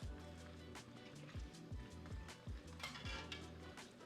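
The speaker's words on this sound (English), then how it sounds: "you want to kind of keep them moving throughout the hot oil. That way they can cook evenly" Chips frying in hot oil around 325 degrees for steak nachos, a steady close sizzle broken by repeated clinks and scrapes of a utensil stirring them in the pot.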